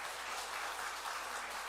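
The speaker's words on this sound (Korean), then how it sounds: "우리 박수로 격려해 주시기 바랍니다" A church congregation claps steadily through a Sunday morning service, a continuous, fairly faint wash of applause with no talk over it.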